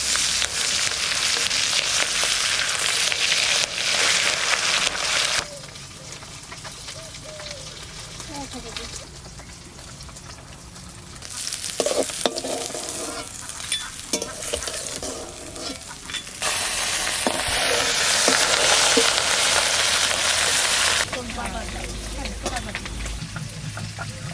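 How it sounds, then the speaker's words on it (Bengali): Tangra fish frying in hot mustard oil in a wok, a steady bright sizzle running throughout with brief dips and stirring scrapes, loud and close. "মাছ ভাজা হয়ে গেছে"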